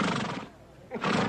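Two loud bursts of a horse's whinny, separated by a short quiet gap, close and harsh.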